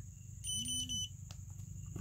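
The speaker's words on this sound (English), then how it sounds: "you'll hear this thing beep, beep," A DOGCARE dog training collar and remote give a short electronic beep on pairing, one clear tone of about half a second, close and fairly quiet over low background hum.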